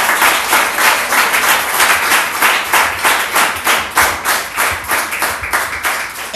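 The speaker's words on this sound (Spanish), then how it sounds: "¡Aplaudo al Cristo de la disciplina!" A church congregation claps together in steady, rhythmic unison, the loud close-up hand claps filling the space for several seconds with no voices on top.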